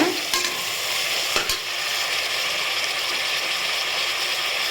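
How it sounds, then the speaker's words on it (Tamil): Mint leaves sautéing in a pan for prawn biryani give a steady, loud broadband sizzle with a few sharp clicks of a spoon against the pan, and no voices. "கொஞ்சமாக புதினா சேர்த்துக்கோங்க சேர்த்து நல்லா வதக்கிக்கோங்க"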